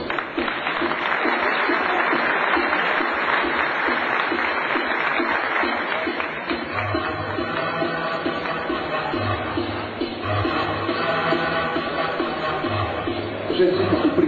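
A crowd at an awards ceremony for motorsport figures breaks into loud, dense applause with some cheering. Chatter and voices run underneath, and the clapping thins slightly partway through.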